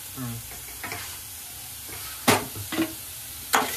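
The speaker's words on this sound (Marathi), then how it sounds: "मस्त त्याला परतून घ्यायचं, फ्राय करून घ्यायचं।" Onion and bay leaf fry for kaleji fry, giving a low sizzle broken by a few sharp, loud scraping stirs of a spatula against the pan, with no talking.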